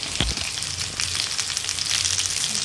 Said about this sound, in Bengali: পুরো লাল করে ভেজে নেব।